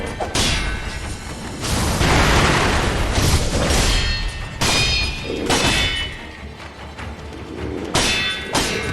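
Combat in the Sekiro video game with a firecracker item: repeated loud booms, crashes, thuds and whooshes in rapid bursts, dense and close, with no talk.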